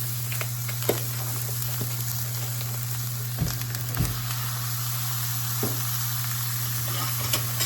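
Ground beef frying with onions in a pan, a constant close sizzle with a low steady hum underneath and occasional soft clicks and taps.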